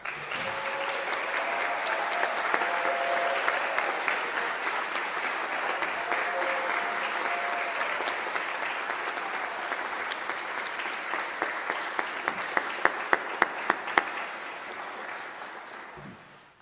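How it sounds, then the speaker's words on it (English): Audience applause for graduating seniors at a high school band spring concert, a long dense roar of clapping from a large crowd, loud and sustained, with a few sharper nearby claps before fading out at the end. "Let's give them another round of applause"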